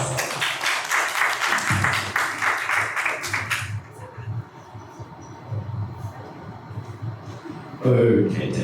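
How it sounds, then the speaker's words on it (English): Audience applause welcoming a lecturer, dense clapping for the first few seconds that then thins into scattered claps over room hum and murmuring. "Let's give him a warm round of applause."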